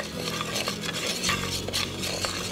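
Moong dal dry roasting in a pan, with busy scraping and stirring against the metal and a light, continuous sizzle, heard close and without talk.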